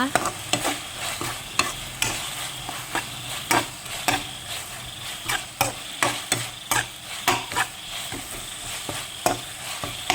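Large onion stir-fried in a hot wok for Thai basil beef: rhythmic spatula scrapes and clanks over a steady, close sizzle, with no talking.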